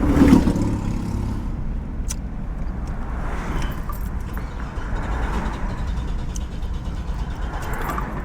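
A car with a newly rebuilt engine and a rusty fuel system drives through town, a steady low engine drone with road noise heard from inside and a brief clatter at the start.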